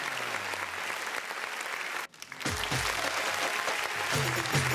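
Audience clapping to welcome a guest at a birth-anniversary ceremony, steady and moderately distant, briefly cut off, then resuming with a few voices and a sung or spoken tone underneath.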